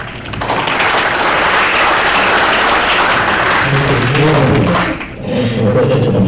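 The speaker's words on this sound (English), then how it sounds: "I think they deserve another round of applause" An audience gives the panelists another round of applause at the BBS 2013 event, a loud, dense wash of clapping for about five seconds that briefly dips, followed by a rumbling, voice-like murmur.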